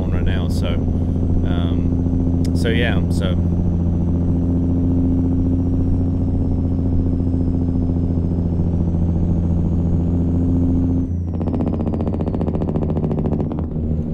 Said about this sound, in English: The only thing that I do have is Zeemods engine sound,